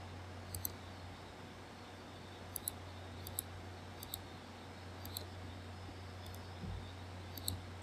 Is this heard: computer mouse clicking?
yes